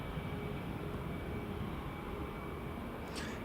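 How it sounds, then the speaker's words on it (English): An EasyJet airliner at Edinburgh Airport's runway 24 produces a steady, moderately distant engine rumble that holds evenly across the short stretch, without voices. "Yeah, lovely sound from that EasyJet."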